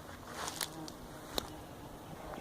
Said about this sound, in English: Bees are flying around